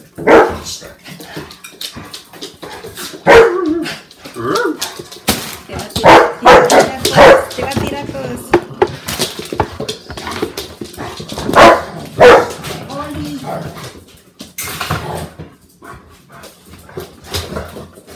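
A pet dog barks loudly and excitedly indoors, with repeated yips and whimpers in bursts spread across the stretch. A person's voice is heard between and under the barking.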